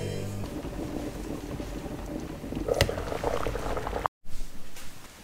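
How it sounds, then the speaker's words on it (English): A pot of water boils hard on high heat, a steady rolling bubble and hiss that carries on alone for several seconds, with a brief clatter and a short dropout near the end. "put it on high. It needs to boil"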